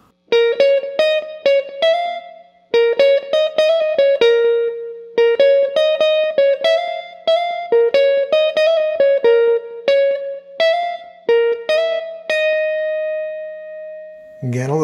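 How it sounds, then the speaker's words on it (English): Clean electric jazz guitar picks a short run of single notes from a five-note blues scale phrase in quick clusters with brief pauses, ending on a sustained note, played alone without talking. "he's basically just playing this little five-note segment of the blues scale."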